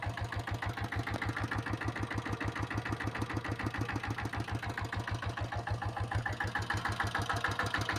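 A diesel Bullet motorcycle with company diesel engine and self start idles steadily nearby, a rapid even thumping beat with mechanical clatter, running alone without talk at a constant pace.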